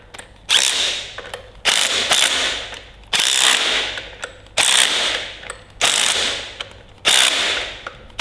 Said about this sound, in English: Let's just check them with a ratchet.